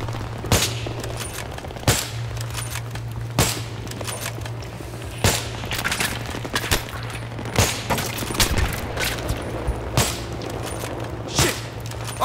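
Battlefield 3 combat: sharp, loud gunshots crack out at irregular intervals over a continuous low rumble, with some quicker bursts clustered in the middle of the stretch.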